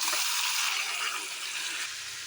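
Tomatoes hitting sautéed onions in a hot pan for chicken biryani, a loud, dense sizzle that hisses steadily and eases slightly toward the end, with no talking.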